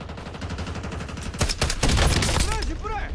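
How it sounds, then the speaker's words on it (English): Heavy gunfire in a WWII video game battle at the Battle of the Bulge: dense, loud volleys and bursts of rifle and machine-gun fire with booming impacts, near and relentless, with voices mixed in. "Taking fire!"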